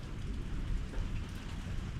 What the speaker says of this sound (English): We got a brew of a storm.